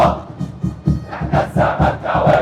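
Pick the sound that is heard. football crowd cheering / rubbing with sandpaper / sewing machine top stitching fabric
football crowd cheering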